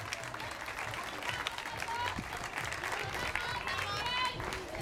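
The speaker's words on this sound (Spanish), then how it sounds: "Vamos a despedirlos con un fuerte aplauso al Jardín de Niños Rafael Nieto." A crowd at a November 20 parade applauds as a kindergarten group passes, a lively spread of clapping and cheering mixed with chatter and nearby voices, fairly distant and busy throughout.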